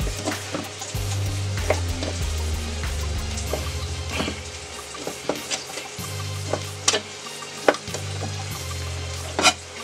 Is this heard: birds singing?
no